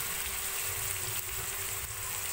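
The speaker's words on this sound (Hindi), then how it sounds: "प्याज ब्राउन कर रही" Onions browning in a hot pan for an aloo keema dish, a steady dense sizzle and crackle of frying that holds constant and close, without any talking.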